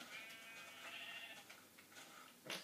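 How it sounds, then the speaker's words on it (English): Sheep bleating in the video game Minecraft, a short synthetic bleat over steady game background noise, fairly faint and close, with no talk over it. "Why is that sheep in the chicken farm?"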